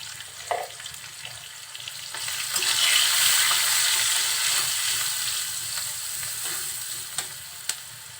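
Salt and turmeric are stirred into oil in a frying pan for potato bhaji, producing a rising, sustained sizzle punctuated by a few sharp spatula knocks against the pan.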